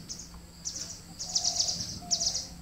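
Birds chirp and call in short repeated bursts on an evening near a forest watch tower, faint and distant over a soft background hum.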